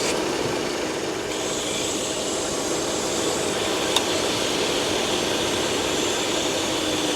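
A Jeep Cherokee Laredo 3.7 engine idles with a huge vacuum leak, giving a steady, close, broadband hiss and rushing drone with no break.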